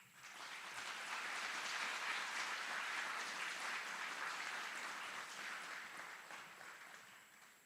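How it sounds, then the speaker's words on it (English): Audience applause for drill sergeants and instructors at an Army aviation brigade graduation ceremony at Fort Eustis, a steady, fairly distant wash of clapping that holds for several seconds before tapering slightly. "Please join us in giving a round of applause to these outstanding drill sergeants and instructors."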